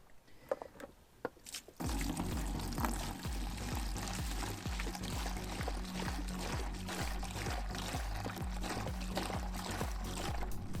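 Hot tap water pours steadily into a bucket for washing a caravan, a continuous gushing splash starting abruptly after a few quiet handling knocks and running loud to the end.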